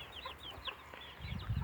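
A small backyard hen clucks in short, soft calls, fairly close and quiet, with a few light rustles and a low thump near the end.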